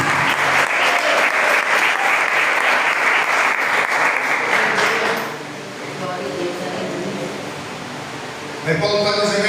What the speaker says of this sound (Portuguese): aplaude em nome de Jesus